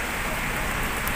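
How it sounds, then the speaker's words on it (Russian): Steady, dense hiss of heavy rain pouring down in old Batumi, constant and close with no breaks, like water falling in sheets onto hard surfaces. "Очень такой большой дождь, как из-под ведра был целый час."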